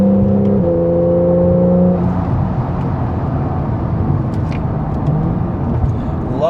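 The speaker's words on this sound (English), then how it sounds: "Lovely sound from the engine there" A Porsche 991.1 Carrera S with X51 Power Pack revs loudly and holds high, then drops and settles into a rumbling idle with a throaty exhaust tone, close up.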